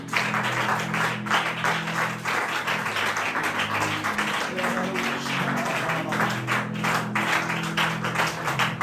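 A church congregation claps steadily for several seconds to acclaim the Lord Jesus during a deliverance prayer service. The applause is loud and continuous, with a sustained musical or vocal hum underneath.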